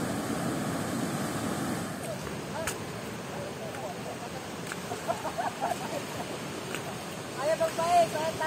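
Southern-coast ocean waves wash against a beach at Tanjung Langgudu in Bima, a broad steady surf roar with wind buffeting the microphone, a few brief voices rising near the end.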